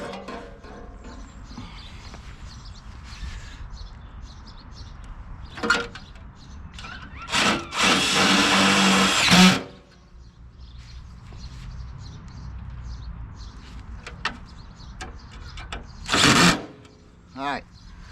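A power drill drives screws into a homemade ride-on toy car built as a little deuce coupe, with two loud, fairly close bursts of whirring, the longer one near the middle and a shorter one near the end, amid workshop noise and a few clicks.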